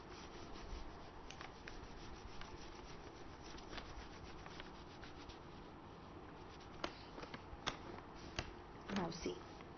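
A board eraser rubs across a classroom board to wipe out writing, a long run of close scratchy strokes ending in a few sharper scrapes and knocks, with a teacher's voice heard faintly now and then.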